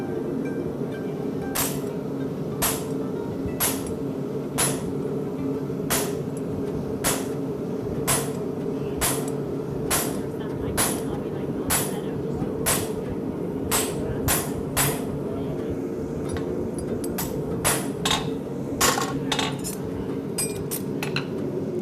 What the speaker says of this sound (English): Use this hammer to get it, guide you in where you want it.